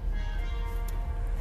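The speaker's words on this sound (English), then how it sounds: "Maybe that's what the gong sound is supposed to symbolize" A struck gong rings out in a sustained, steady metallic tone with layered overtones, quiet and even across the whole stretch.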